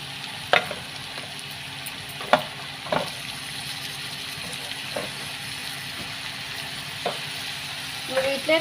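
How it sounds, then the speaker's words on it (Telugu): Chopped tomato pieces frying in a pan for a ridge gourd dish, a soft steady sizzle broken by a few sharp spoon knocks and stirring scrapes, close and quiet. "ఇప్పుడైతే కట్ చేసి పెట్టుకున్న టమాటా ముక్కలు అయితే వేసేసుకున్నాము"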